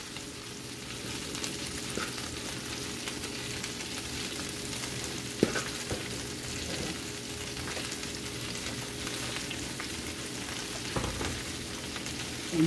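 A large head of cabbage fries in a pan with a steady, quiet sizzle and crackle, broken by a few sharp pops and scrapes as it is stirred.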